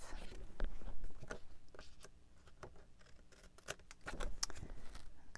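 Scissors trim extra paper strip pieces in a paper craft, making a series of quiet, crisp, close snips with short gaps between cuts.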